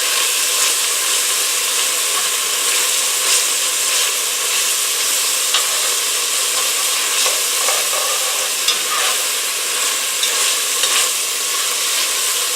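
Bacon fries in a pan with a loud, steady high sizzle and crackle, occasional stirring scrapes breaking through, and no talking.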